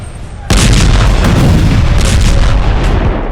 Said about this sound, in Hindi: गाजा पट्टी का सबसे बड़ा अस्पताल अल शिफा इजराइल के बारूद से फिर दहल गया।